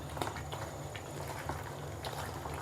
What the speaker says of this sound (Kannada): ಅದು ಕುದ್ದೈತಿ ನೀರೊಳಗೆ